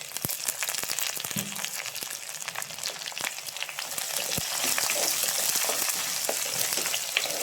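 A medium-sized onion sautéed in oil with ginger for a chicken-parts dish: crackling, popping frying noise, close by, that grows steadily louder and denser over the clip, with scattered sharp ticks and no speech.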